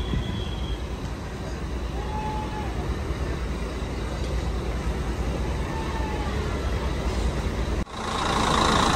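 A KS 511 bus leaving Bangkalan, a steady engine drone and road rumble that builds gradually, with a faint whine and a sudden shift to louder noise near the end.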